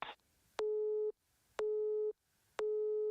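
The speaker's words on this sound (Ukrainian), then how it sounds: "Номер абонента, якому ви телефонуєте, зайнятий або абонент відхилив ваш виклик" A telephone busy signal sounds as three identical steady beeps, evenly spaced about a second apart, clear and alone, after a brief burst of noise at the start.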